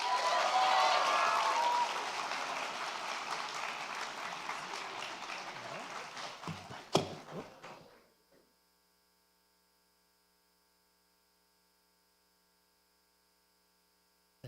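Audience applause at a high school senior awards night as a recipient of the band director's award heads to the stage: dense, steady clapping for about eight seconds that ends abruptly, followed by near silence with a faint electrical hum.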